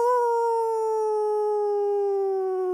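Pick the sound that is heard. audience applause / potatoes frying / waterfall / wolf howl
wolf howl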